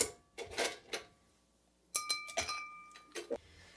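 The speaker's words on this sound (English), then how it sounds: "put ice into our mixing glass" Ice cubes clink and knock against a mixing glass in a couple of short bursts separated by a quiet gap, with a few bright ringing taps standing out.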